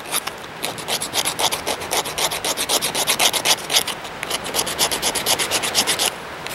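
Fatwood scraped with a Corona tool, a rapid run of rhythmic rasping strokes, close and steady for several seconds with a brief pause near the end.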